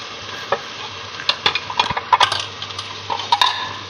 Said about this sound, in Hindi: अब हम इसमें शलजम डालेंगे।